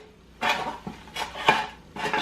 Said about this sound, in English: I'm greasing the pan